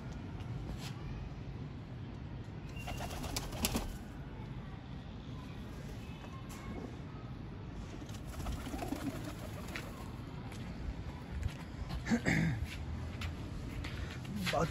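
Pigeons cooing in a Rawalpindi pigeon-keeping loft during rain, soft repeated coos scattered through steady background noise with occasional traffic, while someone talks nearby.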